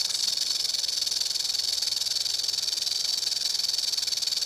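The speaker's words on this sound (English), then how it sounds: "That's the sound a rattlesnake makes to warn predators away." A rattlesnake shakes the hard rattle at the end of its tail as a warning, giving a steady, dense buzzing hiss that holds at an even loudness throughout, with no other sounds.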